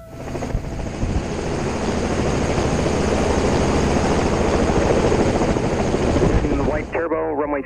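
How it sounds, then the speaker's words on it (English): Helicopter flying close by near an airfield, a loud steady rotor and turbine roar that fills the whole clip before a voice breaks in at the very end. "Helicopter."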